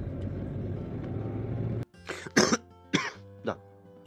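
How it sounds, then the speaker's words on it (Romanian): Several short coughs, close and loud, come in a quick uneven run after steady indoor background noise suddenly cuts off, with faint traffic outside. "Tușesc."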